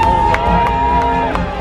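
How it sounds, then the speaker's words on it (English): Excited crowd cheering and whooping while waiting in line for the opening of Star Wars Galaxy's Edge at Hollywood Studios, a steady dense roar of voices with a few sharp shouts rising above it. "Crowd was going wild."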